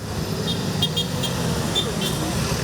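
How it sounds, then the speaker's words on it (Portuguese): Loud city road traffic rumbles continuously, broken by several short car horn toots, with a voice talking over the noise. "O barulhão do trânsito também causa incômodo."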